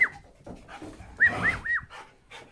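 A staffy bull terrier and two female dogs in a home, one dog panting rapidly and letting out several high, thin whimpers and whines, close to the listener, with no speech.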